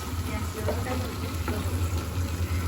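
Eggs fry with sliced onions and salt in a pan, giving a steady, moderately quiet sizzle with soft crackles and faint stirring scrapes, close to the ear, with a low hum underneath.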